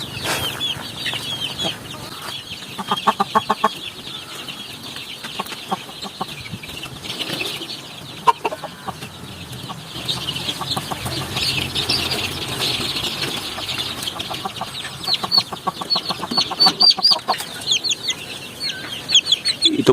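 Chickens and their growing chicks on a farm cluck and peep continuously, with bursts of wing flapping and a steady chorus of high chirps throughout, fairly close.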